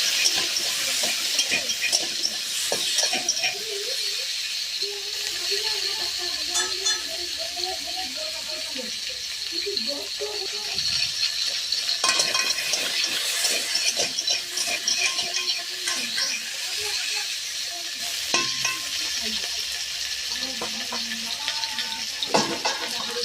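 Potatoes and Malabar spinach fry in a pan, a continuous hiss and sizzle with scraping stirs throughout, close and steady and without any talking.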